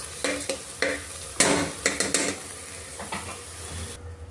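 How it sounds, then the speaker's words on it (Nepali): Carrots and coriander stir-fried in a pan, a run of close, irregular scraping strokes over a soft sizzle, the clatter tapering off before a sudden quiet at the end. "राम्रोसँग यसमा धनिया हालेर है हल्का यस्तो फ्राई गर्नुपर्छ।"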